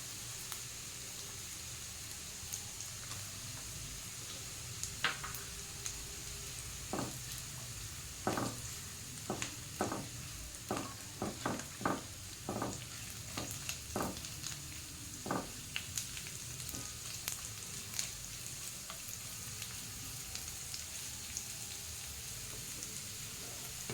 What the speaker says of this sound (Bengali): এবারে কেটে রাখা গাজর দিয়ে দেবো।